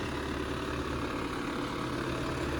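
A tractor engine runs steadily with a loader attached, a continuous low rumbling drone at moderate distance with no breaks or talk.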